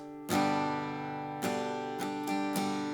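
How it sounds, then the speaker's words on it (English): Acoustic guitar playing a beginner down-down-up strum pattern in a worship-song lesson, with four or five ringing strummed chords spaced unevenly, close and clear with no talking. "why don't we just start with a very beginner strum pattern"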